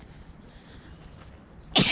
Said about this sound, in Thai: สิจามอีกแล้วดิบันนี้